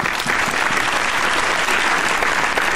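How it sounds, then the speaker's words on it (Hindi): Applause from a mushaira audience at an Eid poetry gathering greets a poet taking the stage: dense, steady clapping from a large crowd, loud and continuous throughout. "कुछ तालियां बजाइए"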